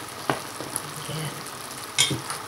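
Crab simmering in coconut milk for ginataang alimasag, a soft steady bubbling with a few sharper pops and utensil clicks close by.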